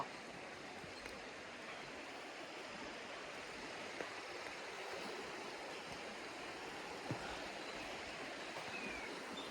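The Jagdi Khola, a stream in Syangja district, Nepal, flows in a steady broadband rush that is moderately loud and continuous throughout, with no voices over it.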